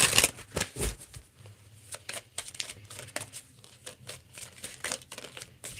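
Tarot cards riffle and shuffle in bursts of crisp card slaps and soft crinkling, close and moderately quiet, with a low steady hum underneath and no talking.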